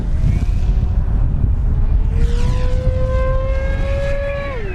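An E-flite V1200 RC jet takes off from a paved runway, its electric ducted fan rising into a loud, climbing whine that holds steady, then drops in pitch as it pulls away, with wind buffeting the microphone.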